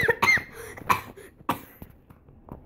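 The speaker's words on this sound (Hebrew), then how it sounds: "למה אני תמיד משתעל?" A young voice gives a few sharp coughs during a game, bursts spaced apart over a couple of seconds, close and fairly loud, then fading into quiet.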